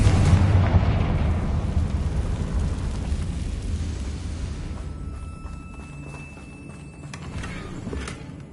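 A Confringo fire-blast spell from the video game Hogwarts Legacy, a loud booming explosion that rumbles and slowly fades over several seconds.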